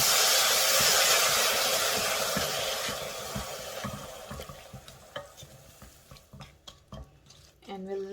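A spoon stirs eggplant curry with freshly added chopped tomatoes in a hot pan, starting under a loud sizzling hiss that fades, then giving way to repeated scraping and clinking strokes against the pan, with a brief voice at the end.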